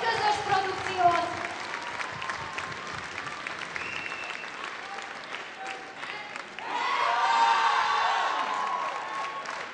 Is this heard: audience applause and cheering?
yes